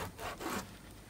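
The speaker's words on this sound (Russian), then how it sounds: "Резала морковку и картошку." A kitchen knife cuts carrots and potatoes into cubes on a board, giving a few soft, scraping slicing strokes, faint and close, with no talk.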